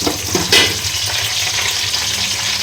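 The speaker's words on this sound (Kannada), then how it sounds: "ಇದು ಸ್ವಲ್ಪ ಇವಾಗ ಚೆನ್ನಾಗಿ ಫ್ರೈ ಆಗಲಿ." Onions frying in a pan for a capsicum chicken dish, a steady close sizzle with brief stirring scrapes near the start, no voices.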